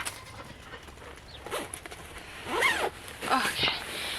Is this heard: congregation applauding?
no